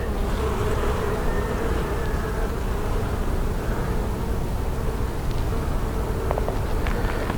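A dense, loud, steady buzz of many honeybees packing pollen and nectar into comb inside a hive, very close and continuous, with no voices.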